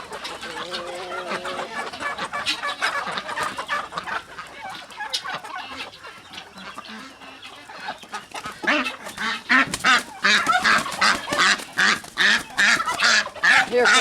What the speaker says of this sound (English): We can just put the duck in the trap, Bob.